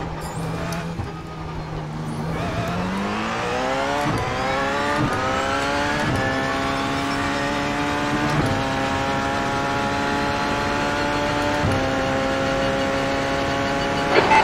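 A Porsche 919 race car engine screaming at Monza in iRacing, heard from onboard: a loud, continuous whine climbing in pitch through several upshifts, each marked by a brief drop before the next rising sweep.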